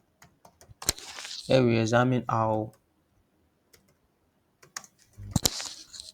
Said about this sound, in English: let me mute your speaker. Your keyboard is shouting.